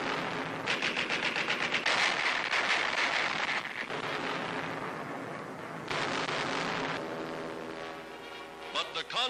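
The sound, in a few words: anti-aircraft guns and pom-poms firing on WWII Arctic convoy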